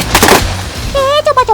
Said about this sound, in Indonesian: Keras banget suara tembakannya ya.